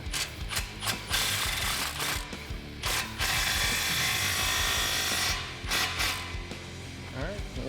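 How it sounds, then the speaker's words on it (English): A socket wrench ratchets in quick repeated bursts while tightening a 15mm exhaust clamp on a 1999-2004 Mustang GT Borla cat-back exhaust, close and clicking, with short pauses between runs. "tighten up that 15mm clamp"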